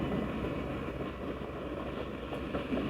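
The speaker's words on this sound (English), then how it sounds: "There's a train going in the background." Distant train running by at night, a low steady rumble of rail cars rolling along with faint rhythmic wheel clatter, far off and continuous, no voices present.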